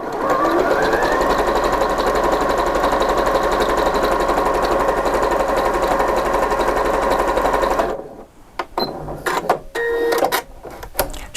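A Janome 4120QDC-T sewing machine runs a fast triple zigzag overcast seam along a fabric edge, whirring steadily and loudly for about eight seconds before stopping, followed by a few scattered handling clicks.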